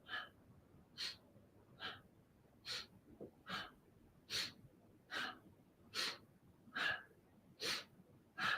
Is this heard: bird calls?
no